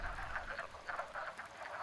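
A dense chorus of frogs croaks in a small wetland patch during an amphibian migration, many overlapping calls pulsing rapidly and continuously at moderate loudness.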